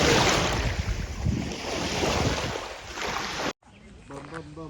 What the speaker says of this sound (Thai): น้ำไหลครับ โอ้ยยังไหล